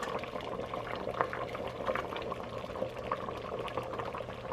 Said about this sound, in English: you see the mixture start to boil again